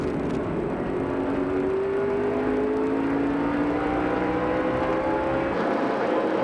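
Race cars at the 2004 Toyota All-Star Showdown roar steadily around the oval, with rising engine tones as cars pass one after another, loud and continuous with no talk.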